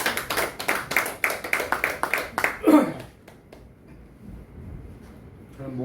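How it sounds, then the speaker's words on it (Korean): About three seconds of sparse, distinct hand claps from a small audience welcome a speaker at a poetry reading memorial, then fade to near silence with faint murmuring. "박수로 모시겠습니다"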